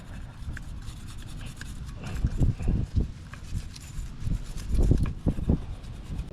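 Rubbing scrape as a used rear brake pad tensioner clip from a 2012-2016 Honda CR-V is cleaned by hand, close up, in uneven bursts of friction strokes with no talking.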